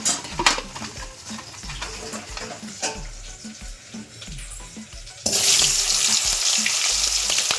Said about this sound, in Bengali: কচু সিদ্ধটা হোক ততক্ষণে চলো কাঁকড়াটা ভেজে নিই